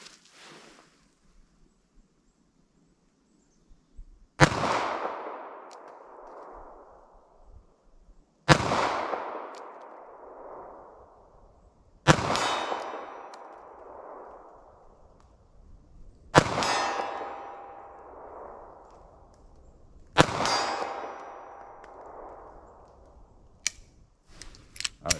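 Five loud gunshots spaced a few seconds apart from a .380 ACP pocket pistol firing Sellier and Bellot FMJ rounds, each sharp crack trailing into an outdoor echo, with a faint clink near the end.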